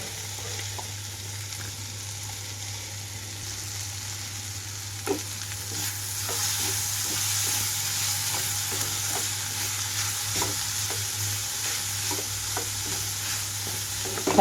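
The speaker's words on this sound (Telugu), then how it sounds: "కలుపుకుంటూ వేయించుకుంటే చక్కగా వేగిపోతుంది" Steamed ivy gourd frying in a pan with a green chilli and coconut paste, stirred as it cooks. A steady close sizzle runs throughout, broken by soft scraping stir strokes, with no talking.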